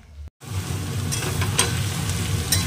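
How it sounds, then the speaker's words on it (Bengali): Vegetables with cauliflower frying in white oil, a loud steady sizzle with brief sharp crackles, briefly cut to silence near the start. "সবজিটা এবার একটু ভালো করে ভেজে নিচ্ছি, আর সাদা তেলেই ভাজছি।"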